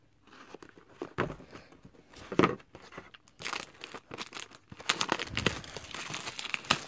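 A 2019 Topps Heritage baseball card pack being torn open, its wrapper crinkling and crunching in irregular close bursts that grow busier toward the end, with no talking.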